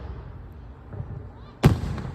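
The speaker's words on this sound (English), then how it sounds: "So that's fireworks." Fireworks show, a single sharp loud burst near the end following a faint whistle, with crowd murmur and low background noise before it.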